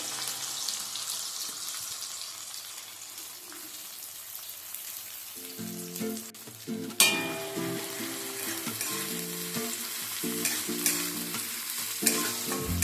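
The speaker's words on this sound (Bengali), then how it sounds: "গ্যাসের ফ্লেমটা মিডিয়াম টু হাইতে রেখে এই পেঁয়াজটা ব্রাউন করে ভেজে নিতে হবে।" Sliced onions sizzle steadily in hot oil in a pan over a medium-high gas flame, with clinking stirring strokes and scraping joining partway through, close and continuous with no talking.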